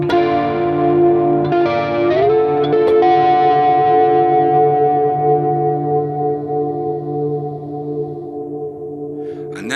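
Electric guitar played through a BOSS GT low-gain Plexi amp model with chorus and reverb: a few strummed chords ring out with a shimmering, washy sustain and slowly decay, with no talking.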